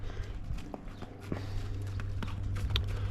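Horses moving about a field beside an electric fence, with soft, irregular hoof thuds and shuffling steps close by against a steady low hum.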